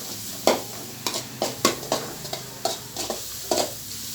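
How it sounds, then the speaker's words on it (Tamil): Sliced onions fry toward golden in a pan for egg parotta, a low sizzle punctuated by about a dozen sharp, irregular spatula scrapes close up, with no one speaking. "இப்போ இதை பொன்னிறமாக வறுத்துட்டு அதுக்கப்புறம் தக்காளி சேர்த்துலாம்."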